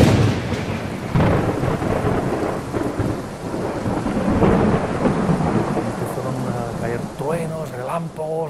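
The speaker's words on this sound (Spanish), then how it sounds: "Truenos, relámpagos, y ostras, y lluvia, mucha lluvia" A thunderstorm with heavy rain during the Titan Desert desert mountain-bike race: a loud, rolling rumble of thunder over a constant wash of rain, with people talking over it.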